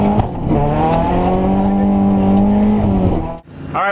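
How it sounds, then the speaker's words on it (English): A rally car races on a snowy course at the Sno*Drift Rally, its engine holding a loud, sustained roar that climbs in pitch before cutting off sharply near the end. "After a quick stop to check on the driver, we were off and racing again."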